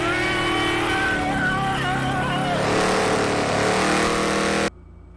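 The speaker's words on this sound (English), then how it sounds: "Put them on the truck and do burnouts with wooden wheels." A truck fitted with plywood wooden wheels roars through a burnout, its engine loud and continuous with a harsh grinding texture, then cutting off abruptly near the end.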